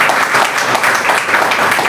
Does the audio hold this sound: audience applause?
yes